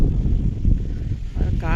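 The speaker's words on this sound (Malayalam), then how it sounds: "ഭയങ്കരം കാറ്റാണ് ഇവിടെ." Strong wind sweeps a hilltop at the Vattamala Murugan temple in Palakkad, a loud, constant low buffeting rumble against the microphone, with a person talking over it.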